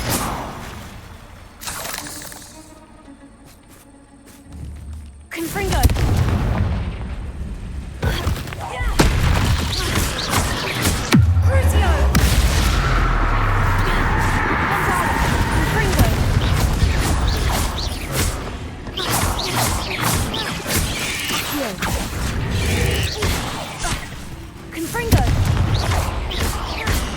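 Spell blasts from Confringo and Bombarda in the video game Hogwarts Legacy, heavy booming bursts and mechanical crashes following one another over a continuous game soundtrack, with a voice speaking over it.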